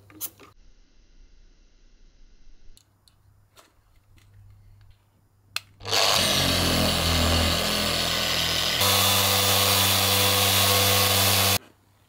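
Wet sanding with 800 grit on an opaque headlight of a BMW 5 Series E60/E61 525d, as a loud, steady power-tool whine that starts abruptly after a few faint knocks, shifts pitch partway through and then stops.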